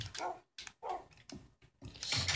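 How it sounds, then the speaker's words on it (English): Several dogs bark in Minecraft, a cluster of sharp, fairly close game-sound barks in quick bursts with short gaps, ending in a louder, noisier burst. "Oh my gosh, where all these dogs come from?"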